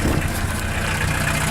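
A 1981 Volkswagen Rabbit's engine idling just after a cold start, a steady, even mid-to-low rumble held close and loud with no variation throughout.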